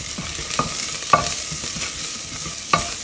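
Dal fries in a pan with turmeric as a spoon stirs it, making steady sizzling and soft scraping with a few sharper clinks of utensil against metal.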